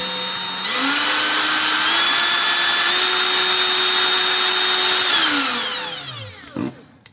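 A loud cordless blower motor whines steadily, steps through its speed settings in pitch, holds, then winds down as it slows, ending with a brief click.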